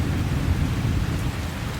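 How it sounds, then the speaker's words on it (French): Heavy thunderstorm with rain: a steady, dense low rumble of thunder and rainfall, loud and unbroken, with no voices. "il y a eu genre un full gros orage"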